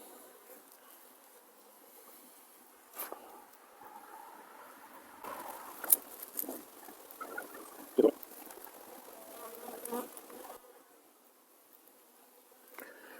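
Artificially inseminated Carniolan honeybees at an opened hive during a winter-feeding nest check, giving a faint, steady buzzing hum with occasional soft knocks and rustles of frames close by.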